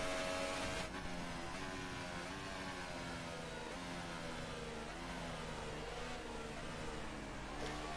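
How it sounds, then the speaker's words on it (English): Formula 1 racing car in a video game with DRS open on a fast lap, engine droning loudly and steadily throughout with rising and falling revs as it shifts gears, no talk over it. "he activates the DRS, and now he's going to head off on his fast lap"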